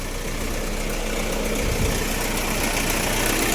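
A BMW E30 with its M10B18 four-cylinder engine in prime condition idles steadily, a constant close mechanical hum with even vibration and no speech.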